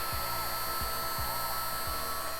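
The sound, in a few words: heat gun blowing hot air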